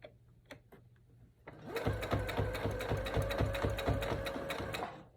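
A sewing machine stitches a braided children's headband, starting after a few faint clicks with a fast, steady run of rhythmic needle thumps and motor whir that continues close and loud to the end.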